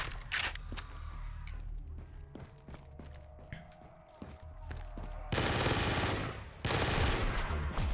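A P90 submachine gun fires in a Call of Duty Zombies match, spraying fast, steady bursts of close shots, then a denser, louder barrage near the end.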